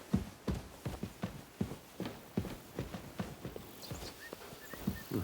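Horse hooves clip-clop steadily on the ground in the video game Kingdom Come Deliverance II, an even walking rhythm of close, moderately loud hoofbeats with no talking.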